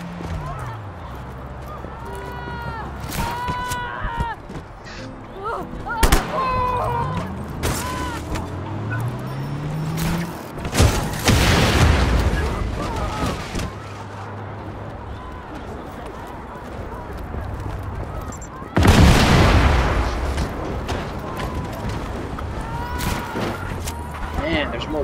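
Explosions and gunfire in Just Cause 3, with scattered sharp shots and two heavy booming blasts among game noise, while someone talks over it.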